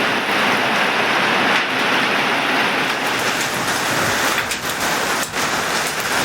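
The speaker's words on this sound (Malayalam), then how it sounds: "ഇതാ മലയോര മേഖലകളിൽ വേനൽ മഴ പെയ്യുന്നു." Summer rain pours down in the hilly areas around Changanassery, Kerala, during a heatwave. A steady, close hiss of heavy rainfall runs unbroken throughout, with no voices.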